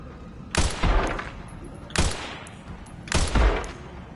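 Three heavy gunshots fired at a zombie in a Resident Evil game, each a loud sharp blast with a short decaying tail, spaced roughly one and a half seconds apart against a quiet background.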